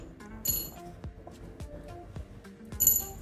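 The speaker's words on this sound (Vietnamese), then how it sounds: "sau khi tháo xong mấy con ốc này thì lật ngược nó lại và cất ốc vào khay" Small metal screws from a Foxlab F80 SE keyboard clink one by one into a tray, a few light, sharp ticks and rattles spread over a few seconds, close and fairly quiet, with no talk.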